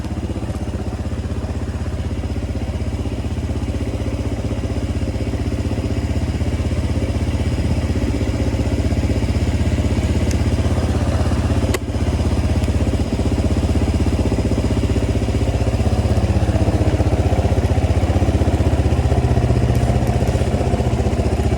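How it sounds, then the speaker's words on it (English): A 1986 Yamaha XT350 motorcycle runs at a slightly high idle after a carburetor and top-end rebuild, its steady close engine rumble and mechanical clatter holding unbroken and loud with no talking. "I think it's idling a little bit high, but let's go take it for a ride."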